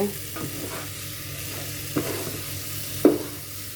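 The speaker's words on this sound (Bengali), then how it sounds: "এখন ভালোভাবে ভেজে নেব" Washed rice is stirred and fried in a pan, with a soft steady sizzle broken by a few scraping knocks of the spatula, the sharpest near the end, heard up close with no talk.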